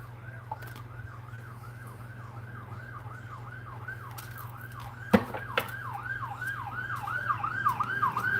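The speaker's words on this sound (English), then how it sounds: "Ooh, there's a siren. And it's a fire truck." A siren wails in a steady, repeating up-and-down cycle, fairly close, with a constant low engine hum underneath and a couple of sharp clanks midway.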